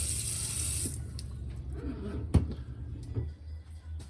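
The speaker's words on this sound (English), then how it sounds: "and then a mixer tap, hot and cold" Water runs briefly from a hot-and-cold mixer tap into a motorhome sink, a steady soft rush that cuts off early, followed by quiet handling clatter and a couple of small knocks.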